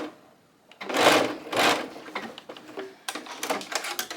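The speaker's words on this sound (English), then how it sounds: "I'm going to sew here 2 or 3 stitches back and forth" Sewing machine stitching a few short runs back and forth across a drawstring bag, with close, loud mechanical whirring bursts separated by brief pauses and light handling clicks.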